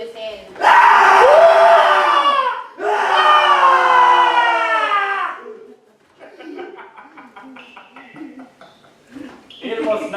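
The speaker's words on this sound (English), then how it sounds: "A succession of loud and shrill screams began bursting suddenly from the throat of the chained form" Dramatized shrill screams and yells from a chained figure walled up at midnight in a Poe tale, two long loud bursts followed by quieter, broken cries.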